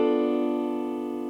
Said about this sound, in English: 7th chord, which is a half diminished chord.